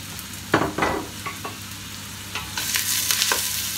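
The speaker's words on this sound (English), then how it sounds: "And what we want to do is try and brown them off a little bit" Onions sizzle and spit in a hot pan, browning for a Persian lamb ghormeh sabzi, with a continuous frying hiss and several sharp bursts of stirring, close by and without speech.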